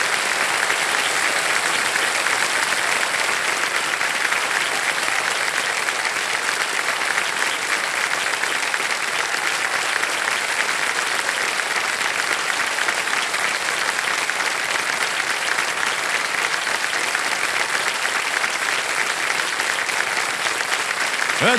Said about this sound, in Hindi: ताली बजती रहे देवियों सज्जनों।